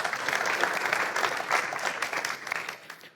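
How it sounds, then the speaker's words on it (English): An audience at a Kotlin developer conference in Amsterdam applauding the host, a dense wash of clapping from many hands that holds steady and then fades out toward the end. "Can we give another round of applause for Anna"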